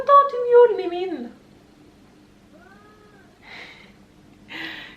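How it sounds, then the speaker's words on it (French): Bengal cat giving one long, drawn-out meow close by, followed by a softer short chirp and faint breathy sounds, with quiet room tone between. "Tout le temps tu miaules, Mimine."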